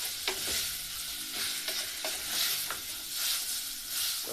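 Tomatoes fry in a pan for Kenyan mayai, a steady close sizzle broken by repeated scraping strokes of a spoon stirring them at a loose rhythm.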